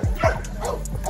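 Dog in a kennel yard of gamebred bulldogs letting out a few quick yips and barks close by, with a voice mixed in.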